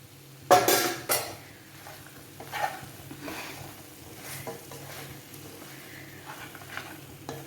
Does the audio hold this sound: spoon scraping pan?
yes